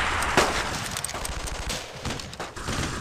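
Close, continuous World War II gunfire from Brothers in Arms: Road to Hill 30 on Xbox, with rapid machine-gun bursts and overlapping rifle shots crackling in a steady, loud volley.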